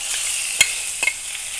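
Chicken sizzles in a hot cast iron pan, a steady bright hiss of frying with a couple of small pops and stirring sounds, close and loud.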